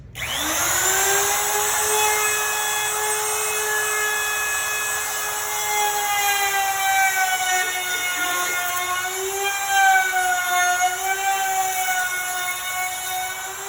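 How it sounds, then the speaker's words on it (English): An electric router whines steadily at high pitch as its spinning bit cuts around the edges of a wooden piece, the tone dipping slightly under load, loud and close with no talking. "Turn it on, and then you're going to pull the bit into the wood, and then you're just going to go around the edges"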